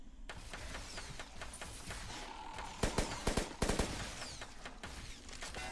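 Gunfire from a gun in a VR video game crackles in rapid bursts over steady game noise, with a louder cluster of sharp shots in the middle and lighter firing throughout.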